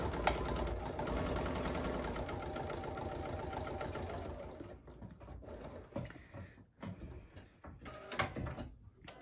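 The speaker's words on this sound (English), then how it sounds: "we're gonna sew down 1/4 of an inch" A home sewing machine stitches a quarter-inch quilting seam on a bag, whirring steadily and close for several seconds before slowing into short, uneven bursts and pauses.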